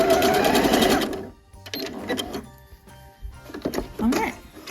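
A sewing machine stitching pajama seams runs steadily and close for over a second, stops, then resumes in shorter intermittent bursts with a soft voice speaking beneath.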